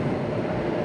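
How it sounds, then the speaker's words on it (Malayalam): A train passes over the Sydney Harbour Bridge, heard from beneath it as a loud, steady low rumble that fills the whole moment. "ഇപ്പം ട്രെയിൻ പോകുന്ന സൗണ്ടാണ്."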